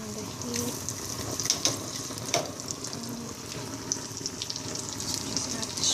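Shrimp sizzle and crackle in a hot pan during a seafood dinner preparation, a dense, steady frying hiss with occasional brighter pops, close and continuous throughout.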